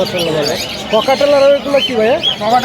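Birds squawking and chirping at the Mirpur 1 bird market, with sharp repeated calls close by, mixed with people talking throughout.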